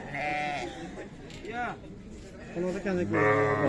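Lambs bleat several times close by, loud and wavering, mixed in with people talking, at the Sokuluk livestock market's sheep bazaar.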